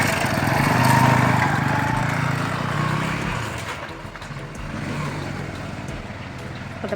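A car pulls away from a home gate, its engine rumbling steadily near at first and then easing off as it moves away, with a broad low hum throughout and no talk.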